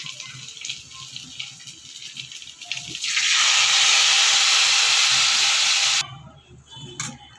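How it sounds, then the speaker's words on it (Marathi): Dal poured into a hot spice tempering in a pan sets off a loud, steady sizzling rush that lasts about three seconds and then cuts off, leaving quieter kitchen sounds. "आता आपण याच्यामध्ये डाळ टाकून घेऊया"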